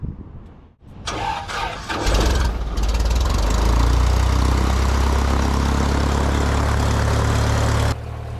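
A light propeller airplane engine starts up and settles into a loud, steady drone before takeoff, close and continuous with no talk over it.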